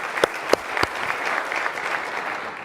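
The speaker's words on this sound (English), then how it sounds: "Round of applause," Brief burst of audience applause at a talk, a room of people clapping steadily for a few seconds with a couple of sharper nearby claps at the start.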